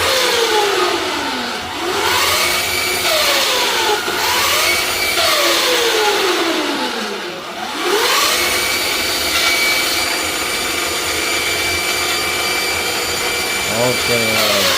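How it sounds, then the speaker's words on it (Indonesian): A converted electric motorcycle motor with belt drive and an added tensioner runs loud and close, a rough whining hum that rises and falls in pitch as the throttle is twisted repeatedly. "memang suaranya agak sedikit kasar karena beltnya itu kita pertahankan, kemudian kita kasih tambahan tensioner ya"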